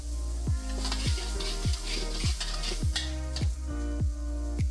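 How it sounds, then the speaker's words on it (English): Chopped onion frying in oil with mango pickle masala, a loud continuous sizzle punctuated by regular rhythmic tapping or stirring strokes, roughly every half second, with no talk. "on top I am putting some chopped onion"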